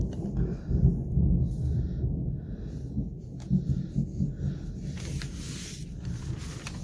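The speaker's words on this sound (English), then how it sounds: "It's thundering." Low thunder rumbles steadily in the distance with rolling swells, while faint higher noises come and go above it.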